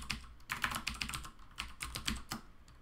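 Computer keyboard typing in irregular bursts of quick keystrokes, close and fairly quiet, with brief pauses between runs and no talking.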